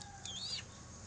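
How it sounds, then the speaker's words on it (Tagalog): A red rooster gives a short, faint cluck against a low background rumble. "Yan ho ang aking tandang."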